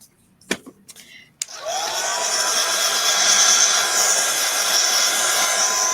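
A hair dryer starts up after a few brief knocks and blows steadily and loudly, drying freshly applied paint on a piece of vintage-style storage.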